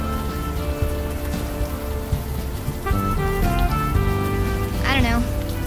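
Steady rain patter in the point-and-click adventure game Unavowed, a continuous soft hiss under music and voices talking over it.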